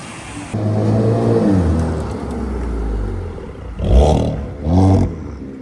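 A 2001 Nissan Maxima engine running with no exhaust fitted, a loud low rumble at idle followed by two sharp revs that rise and fall, heard close with no talking.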